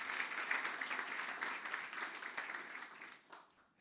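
A worship congregation claps in praise, a steady, moderately distant wash of many hands that swells and then tapers off toward the end.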